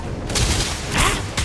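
Enemy weapons fire in the Starfield video game booms out in a few heavy, broad blasts close together, loud and alone over a steady rumbling background.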